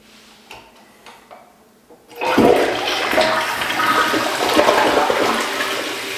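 A dual flush toilet flushes with a sudden loud rush of water that keeps roaring steadily after a quiet start with faint clicks.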